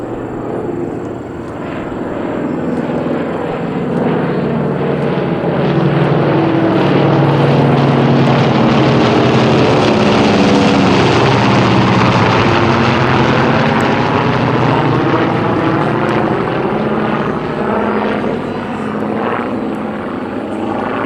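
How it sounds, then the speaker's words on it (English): A vintage Beechcraft C-45 Expeditor twin-engine warbird passes overhead at an air show, its radial engines droning loud and steady, swelling toward the middle and fading slightly as it moves away, with no voices over the roar. "The Beech Craft C-45 Expeditors."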